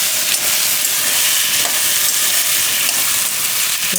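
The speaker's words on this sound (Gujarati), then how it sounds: "બટેટાને આપણે તેલમાં પાકવા દઈએ થોડીક વાર," Thinly sliced potatoes fry in hot oil with a steady, loud, continuous sizzle and hiss, with faint scraping as they are stirred now and then.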